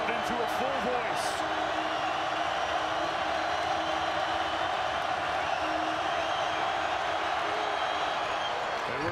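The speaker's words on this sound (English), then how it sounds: "Kevin Keats urging his crowd into a full voice." Home crowd at an NC State Wolfpack basketball game against Georgia Tech roars in a sustained, loud wall of cheering during a tight finish, with a commentator talking over it and a few brief sneaker squeaks early on.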